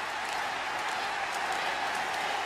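A huge wrestling crowd at the Tokyo Dome roars and applauds for Kensuke Sasaki after his 2005 match against Kenta Kobashi, a steady, dense wash of distant cheering with no breaks.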